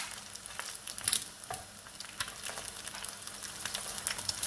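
Egg crisping in hot oil for Thai pad kaprao gai, a lively close crackle of popping and spitting, uneven bursts with no talk.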